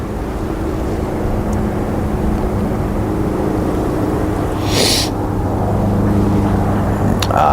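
A Malta Air airliner on the runway at Leeds Bradford Airport, a steady distant jet engine rumble and drone heard from afar, rising slightly toward the end, with some faint background noise.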